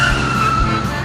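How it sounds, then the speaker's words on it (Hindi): A cartoon tempo auto-rickshaw, driven fast, gives a loud continuous engine drone with a steady high tone, heard close and alone. "अरे कलुआ, तू तो टेम्पो को बहुत तेज चला रहा है"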